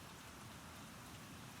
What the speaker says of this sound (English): the rain falling steadily now